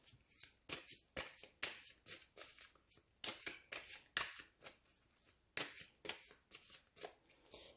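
Tarot cards shuffled by hand in a quiet room, a soft rhythmic series of riffling flutters and taps repeating steadily, close and alone without speech.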